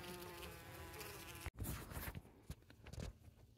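Honey bees buzz close by at a hive in a steady drone that cuts out briefly, then returns as scattered, fluctuating buzzing from individual bees passing near.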